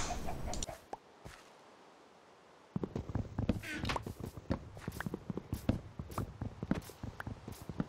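Chickens cluck in the Minecraft video game, short repeated clucks scattered among footstep-like clicks and game effects, with people talking over the busy gameplay sounds.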